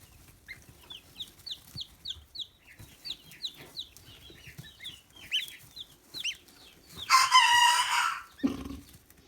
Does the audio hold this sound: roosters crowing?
yes